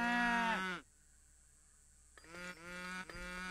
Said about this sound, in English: So I don't know how these cows are going to help me